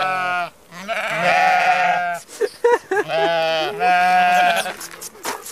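Sheep in Pausitz, Germany bleat nearby in two long, loud wavering cries separated by a few short, choppy bleats.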